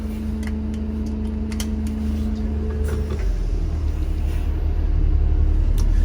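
A bus maneuvers slowly through a parking lot, its engine giving a steady low rumble and drone while a held hum drops away partway through and faint ticks sound over it.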